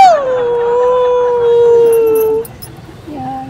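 A voice imitates a dog howling, one long drawn-out wavering howl that slides down and holds, then a short fainter yelp after a pause, close and loud.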